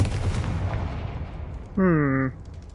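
A Confringo fire spell in Hogwarts Legacy explodes with a dull rumbling burst that fades, followed by a short tonal magic chime.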